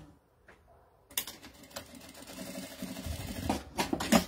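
A sewing machine stitches a strap onto the edge of fabric, running in short mechanical bursts that grow steadier and louder toward the end, heard close and alone.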